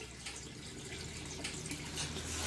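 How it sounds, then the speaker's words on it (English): An aquarium siphon tube in an aquaponic setup starts draining water, a close, steady gurgling flow that grows slightly louder toward the end. "I'll put the tube on, and it'll start siphoning probably immediately."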